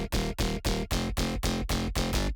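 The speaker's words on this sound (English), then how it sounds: "Bass without effect sounds like this." Dry synth bass played in FL Studio with no effects, a clean pulsing pattern of eight even stabs with short gaps, loud and alone.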